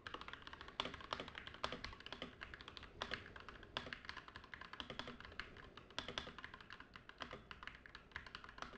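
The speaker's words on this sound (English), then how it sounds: "I'm going to start typing in just a moment here," Typing on a computer keyboard, a quick irregular run of close clicky keystrokes with occasional heavier taps, continuous for several seconds with no talk.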